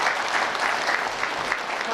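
Steady, loud applause from a crowd at a university president's farewell and inauguration ceremony, dense even clapping filling the room without a break.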